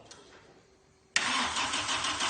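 A car engine cranks and catches suddenly after a near-silent moment, then settles into a steady, loud, close idle with no talking.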